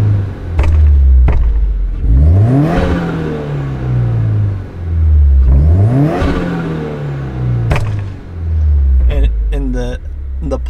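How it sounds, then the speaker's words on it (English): A car engine with a crackle exhaust tune is revved twice while stationary in neutral. Each rev climbs sharply and falls back, with pops and crackles from the exhaust on the overrun, loud and close, then settles back to idle. "you can give it some revs"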